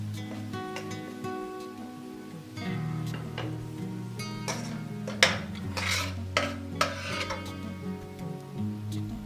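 Thin slices fry in ghee in a pan for a beef bones curry, with a soft sizzle under repeated stirring scrapes and several sharp clinks of a utensil against the pan.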